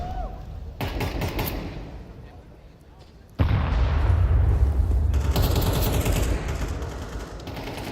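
Gunfire rattles through a Counter-Strike match in the IEM 2025 finals, MOUZ versus Vitality, near Banana: dense bursts of shots and clatter, growing louder partway through, with commentator talk running beneath.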